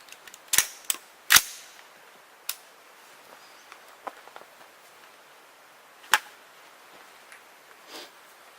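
A rifle fires 5.56 NATO green tip armor piercing rounds at a ballistic barrier panel, several sharp cracks spaced irregularly, the loudest pair close together early, then scattered single shots, sounding somewhat distant.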